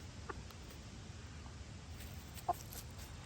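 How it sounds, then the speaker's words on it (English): Faint, scattered clucks from chickens rise over a low steady background hum, a few soft calls spaced apart with one slightly louder near the end. "They sound like grown chickens now."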